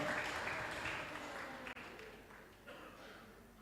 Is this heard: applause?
yes